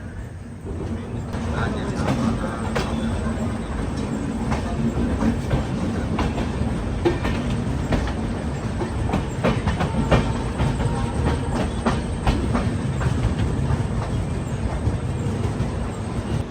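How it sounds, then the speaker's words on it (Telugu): Inside a passenger express train on a winding rainy route, the steady rumble and clickety-clack of the carriages runs loud and continuous, with repeated rail clicks and occasional talk in the background. "పావు మెలికలు అంటే పావు మెలికలు తిరుగుతుంది మన ట్రైన్."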